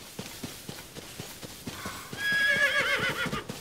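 Horse hooves clip-clop in a steady rhythm, joined halfway by a loud, close neigh, from the video game Zelda Tears of the Kingdom.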